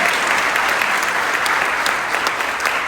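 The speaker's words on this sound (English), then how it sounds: "Let's give a round of applause for the wonderful chef and team at this wonderful Nation Club." Sustained applause from a large conference audience at the Nation Club, honoring the chef and kitchen team, a dense even wash of many hands clapping steadily for the full stretch with no pause.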